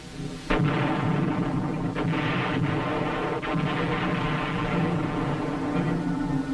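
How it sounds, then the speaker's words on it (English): Massive artillery fire during a military operation: a steady, loud barrage of deep booms and rumbling blasts that carries on without a break, close and dense, with no voices. "During the operation, massive artillery was employed."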